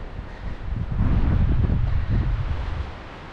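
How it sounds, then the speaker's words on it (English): Strong mountain wind rushes and buffets the microphone ahead of an incoming snowstorm, a low, steady roar that swells in the middle and eases off toward the end. "this is, I guess, why the wind picked up so badly"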